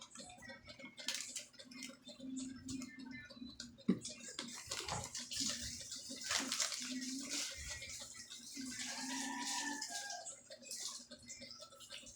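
Water poured into a hamster cage while it is being cleaned: a steady, close trickle and splash with small clicks and handling knocks, fairly quiet.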